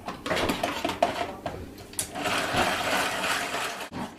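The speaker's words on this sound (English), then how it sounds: "she brings out yet another trusty friend in the form of her manual whisk" A manual whisk beats cream in a home kitchen, making close, irregular scraping and swishing strokes against the bowl with brief pauses between bursts.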